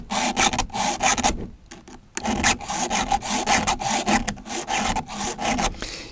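A hand file is drawn back and forth during tool maintenance, giving repeated rhythmic rasping strokes, close and fairly loud, with a brief pause near the middle.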